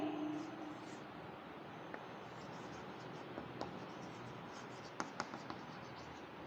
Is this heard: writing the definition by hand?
yes